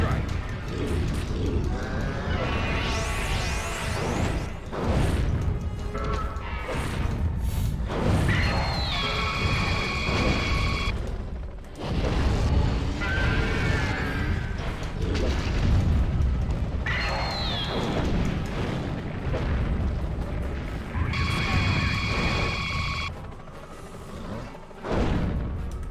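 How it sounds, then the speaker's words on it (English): Mothra's airstrike in a Godzilla GameCube game fires off repeated booming explosions and crashes, mixed with game effects and tonal chimes, with a voice talking at times. "Mothra airstrike."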